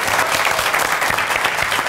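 Studio audience applause on a televised MTV variety show, a dense, steady wash of clapping filling the whole moment at close range with no talk over it.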